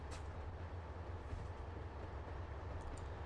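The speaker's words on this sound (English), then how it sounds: "I didn't actually program the train to stop at the station. He just goes right by" A train in the Trainz Simulator 2 railway game runs through a station without stopping, a steady low rumble of rolling wheels and engine holding level and fairly near for the whole stretch, with no voices.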